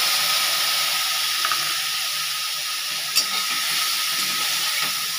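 Coriander and cumin paste sizzles in a pan of frying cashews for chickpea dal, a steady close hiss running throughout with a couple of faint stirring clicks.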